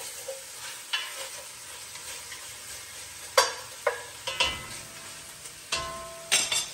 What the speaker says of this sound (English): While I'm over here, I'm going to stir my bacon.